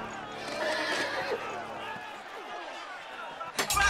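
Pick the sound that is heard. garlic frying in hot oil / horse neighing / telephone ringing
horse neighing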